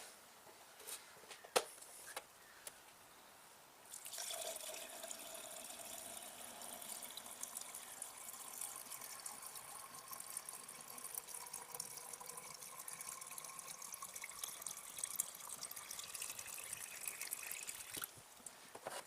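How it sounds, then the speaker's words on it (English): Clean water poured from a bucket into a car radiator during a coolant change, a steady splashing trickle that starts after a few quiet seconds and runs on evenly, close by, for about fourteen seconds. "I'm going to fill it up with clean water out of a bucket."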